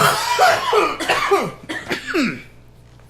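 Several harsh coughs come in quick bursts, close and loud, with a quieter one trailing off at the end.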